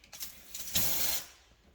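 A steam cleaner hisses in short puffs and then one sustained blast while detailing a Porsche's leather interior, close and sharp, fading off at the end.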